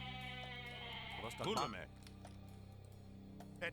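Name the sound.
goats bleating in the video game Age of Mythology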